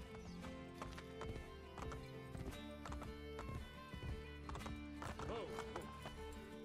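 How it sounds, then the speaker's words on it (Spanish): Hooves clop in an uneven rhythm through busy sounds from the video game Assassin's Creed: Brotherhood, with a short horse whinny rising near the end. "Ahí tienes el caballo"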